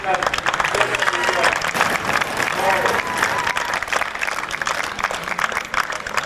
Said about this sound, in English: a deserved clap all round